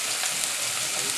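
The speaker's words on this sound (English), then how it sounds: "we're gonna brown the tenderloin" Beef tenderloin browning in a hot pan gives off a steady, dense sizzle, close and even throughout the short moment, with no talking.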